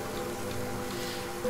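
Steady rain patters continuously in the dinosaur survival game Saurian, a soft even hiss with no voices over it.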